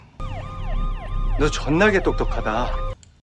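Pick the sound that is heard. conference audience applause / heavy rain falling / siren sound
siren sound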